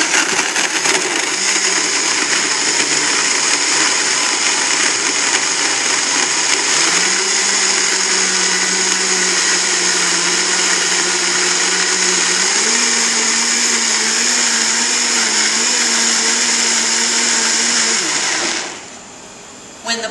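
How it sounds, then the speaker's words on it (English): Commercial smoothie blender running an automatic program, loud steady whirring motor that steps up in speed partway through, holds, then cuts off abruptly near the end. "So these blenders run a program for us."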